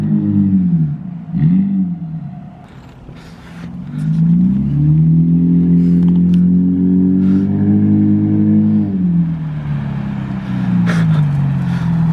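A Lexus IS200 with a new mid-pipe drives around the block, its engine note rising and falling through gears with a loud, close exhaust drone and revving, heard alone with no talk.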